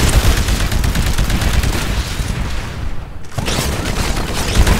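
An anti-Titan weapon fires during a Titanfall tutorial on Xbox One, heard as dense, continuous booming gunfire and explosions that stay loud throughout, with a brief dip near the end before the barrage resumes.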